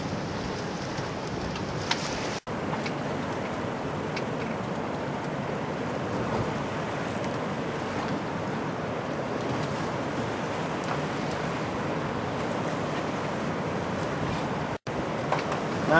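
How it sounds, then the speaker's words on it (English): Waves break around a small boat kept in gear on a lake-like waterway, a continuous rushing wash mixed with buffeting wind on the microphone. "We have waves breaking around us here."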